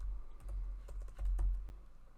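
Close, light clicking of fingers typing on a computer keyboard, a short string of separate keystrokes with no talk.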